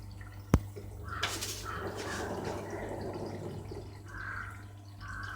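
An LG 6 kg fully automatic front-load washing machine starts its wash cycle. After a single sharp click, there is a quiet, soft sloshing and trickle of water over a low steady hum.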